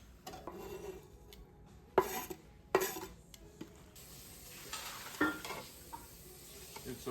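Food stirred in a pan during home cooking gives close scraping and clinking of a utensil against cookware over a faint steady sizzle, with a few sharper knocks and little talk.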